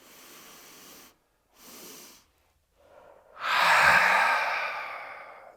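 Slow, deep breaths from a guided breathing exercise: two soft, airy breaths close by, then a pause and a long, loud inhale or sigh that swells and fades away.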